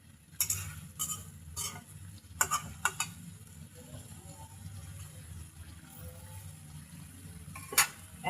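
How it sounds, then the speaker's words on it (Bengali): Potatoes and shing fish being stir-fried in a pan, with scattered metallic scrapes and taps of a spatula over a low steady hum, busier at the start and end. "এবার আমি আলু দিয়ে শিং মাছটাকে আবার কষিয়ে নিচ্ছি।"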